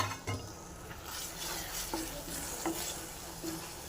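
Egg is cooked in a curry leaf masala in a pan, with a steady close sizzle and occasional soft scrapes of a spoon stirring gently.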